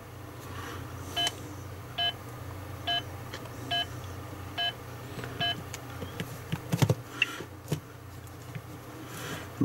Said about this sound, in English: The Nokia beeped.